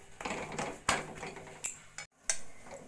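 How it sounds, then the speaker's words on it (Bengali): A spoon scrapes and knocks against a pan while a drying carrot sweet mixture is stirred, with a few sharp metallic clinks and a brief silent gap, close and moderately quiet. "এইভাবে নাড়া দিয়ে দিয়ে ভালো করে শুকনো শুকনো করে নেব আমি।"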